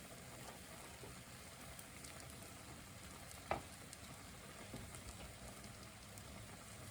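Beaten frittata eggs cook gently over medium heat in a Pioneer Woman skillet, giving a faint, steady soft sizzle with a single brief click midway.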